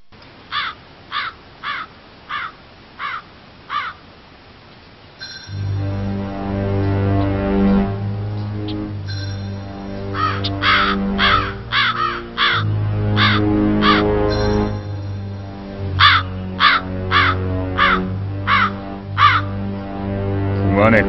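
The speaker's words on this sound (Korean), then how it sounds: "궁 안에 까마귀가 우니 시끄럽구나." Cartoon crows caw in repeated bursts of sharp, rhythmic calls, first alone, then over a swelling orchestral music bed, with clusters of caws continuing throughout.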